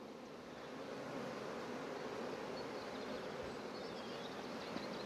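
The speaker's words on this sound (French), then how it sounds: "On voit la hausse, comment elle est pleine d'abeilles." A crowded beehive with its super packed with bees gives off a dense, continuous buzzing hum. It stays steady and faint, with no voices.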